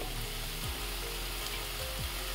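Chopped vegetables hit a hot pan for restaurant-style veg chicken soup, producing a soft, steady sizzle and frying crackle throughout, with no talking.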